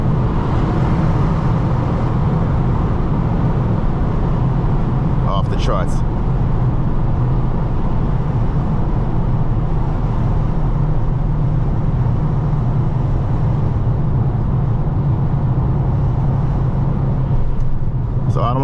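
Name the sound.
Dodge Charger Daytona Hellcat driving on the highway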